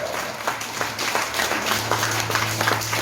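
A church congregation claps together, a dense spread of many hands with scattered sharper claps standing out; a low steady tone runs underneath, and the applause holds at an even level throughout.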